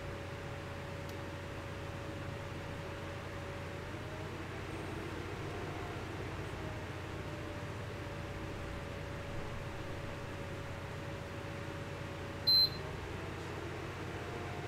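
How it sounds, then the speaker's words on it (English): A Happymodel ESC gives one short, high overcurrent-protection beep, faint against a low steady hum of motor and background noise, with a soft tone sliding underneath. "the beep was the current limiting, the current overcurrent protection"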